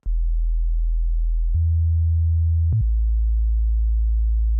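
A pure sine sub layer from the Serum synth plays low, smooth, sustained tones, stepping through three or four held notes with clean, abrupt changes, loud and close with no other sounds.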